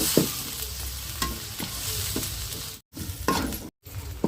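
Mint and coriander leaves fry in a pot for chicken fry piece biryani, a sizzling hiss broken by repeated stirring scrapes and clinks, with two abrupt brief cutouts near the end.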